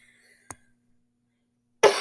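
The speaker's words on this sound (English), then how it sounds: "Sorry for my cough." A single sharp cough lands near the middle, close and fairly loud, with another harsher burst of throat noise cut off at the very end. The rest is near silence.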